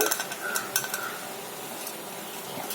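Rice with toor dal and moong dal being stirred together in a cooking pot for sambar rice: close, scraping stirs with light clinks of a spoon against metal, fairly quiet and steady, with no talking.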